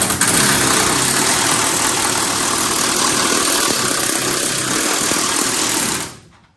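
Race car engine idling, a loud, dense, rough mechanical roar held steady and close for about six seconds before cutting off abruptly.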